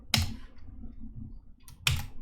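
Two sharp, separate clicks from a computer keyboard during a coding session, spaced well apart over a quiet background with a faint hum.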